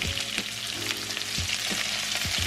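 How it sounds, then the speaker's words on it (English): Japanese-style hamburger patties fry in a pan over medium-low heat, a dense, even crackling sizzle with faint low bumps and scrapes underneath, close and continuous, no one speaking. "so then we're gonna cook this for medium low for about 5 minutes"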